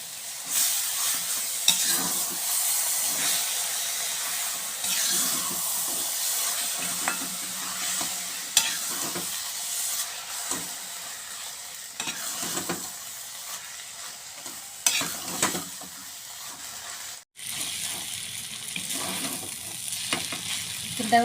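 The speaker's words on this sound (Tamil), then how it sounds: "குருமாவை ஊற்றி இது நல்லா கிளறணுங்க." Kothu parotta, made without egg, is stirred with kurma in a hot pan: steady sizzling frying with scraping and clattering of the spatula in irregular strokes, close and fairly loud, no talking.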